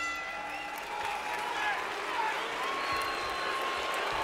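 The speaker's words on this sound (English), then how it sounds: "Now the boos are getting louder as the crowd seems to realize what they're watching" Crowd at a boxing match between Shane Mosley and Sergio Mora booing steadily, a broad sustained roar of many voices filling the arena, with some whistles and cheers mixed in.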